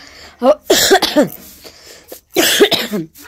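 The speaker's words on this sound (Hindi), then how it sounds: "थोड़ी खांसी अभी हमें को आ रही है" A person coughs in two short bursts, a pause between them, close and fairly loud.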